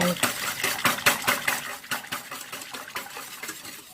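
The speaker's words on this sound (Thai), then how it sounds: "น้ำตาลทรายก็ใส่ลงไปเลยนะคะ คนให้ส่วนผสมละลายเข้ากันนะคะ" Sugar being stirred into a grass jelly mixture with a utensil, giving a quick, steady run of close, bright scraping and clinking strokes against the container, alone without talk.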